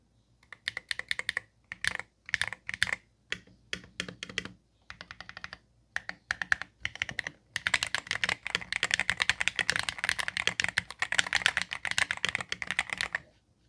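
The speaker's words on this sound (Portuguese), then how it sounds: "mas fica parecendo demais um som de máquina de escrever." Typing on an IYX MU68 Ultra magnetic keyboard: rapid clicky keystrokes in short bursts, then a longer continuous run, close and crisp with a typewriter-like clack, no voices.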